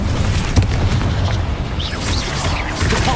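An Incendio fire spell blasts during combat in the game Hogwarts Legacy, producing a loud, rumbling burst of fire with low booms and whooshing crackle that runs continuously for a few seconds.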